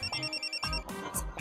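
A phone rings with a steady electronic tone that cuts off partway, followed by a few louder thuds and brief bursts of sound nearby.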